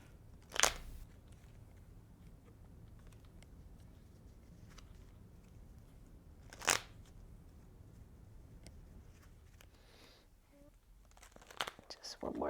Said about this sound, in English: Just one more shuffle after this.